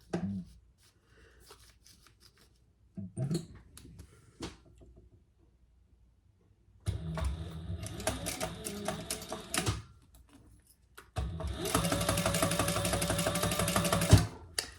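A domestic sewing machine stitches a jumbo beach tote bag with pink Tex 70 polyester nylon thread, running in two loud sustained bursts with a quieter pause between, after some faint handling sounds.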